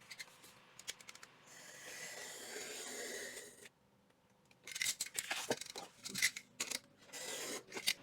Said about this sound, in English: I will first cut a strip of paper 8 centimeters wide.